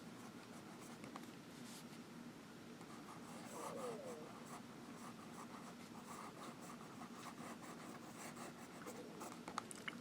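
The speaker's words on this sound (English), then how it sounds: "The nib just sails across the paper." A Franklin-Christoph Model 20 Marietta fountain pen nib glides across Rhodia paper, giving a soft, steady scratching rub that runs throughout at low level beneath faint room noise.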